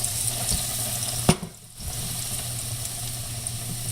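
Cider-battered chicken pieces laid skin side down into hot oil, giving a steady frying sizzle with a brief sharp clack and momentary dip before the bubbling resumes evenly.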